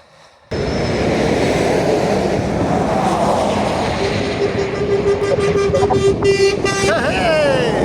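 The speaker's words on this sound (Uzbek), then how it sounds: "Poyezd yo'li o'tibdi tepadan." A train runs on a railway track overhead, making a loud, continuous close-by rumble. A sustained horn-like tone enters midway, and a rising whistle follows near the end.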